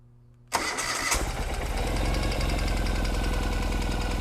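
A Ural motorcycle's EFI engine, cold and unused for a while, cranks at about half a second and catches at once, settling into a loud, steady, throbbing idle that runs to the end with no talk.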